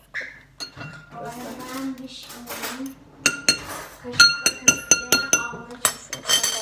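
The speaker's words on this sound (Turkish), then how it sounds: "Bunu iyice karıştırıyoruz arkadaşlar." A spoon clinks against a glass while stirring sugary caramel coffee, giving a quick run of bright, close, ringing taps in the second half. A voice is heard earlier, with softer handling sounds.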